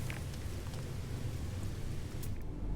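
Steady acid rain falls across a blighted alien landscape with electric green ground in No Man's Sky, a dense continuous hiss with low rumbling underneath, unbroken from start to finish.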